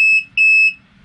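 A shot timer's start buzzer on a steel stop plate target gives two loud, steady electronic beeps, each about a third of a second long, with a short gap between them and no talking.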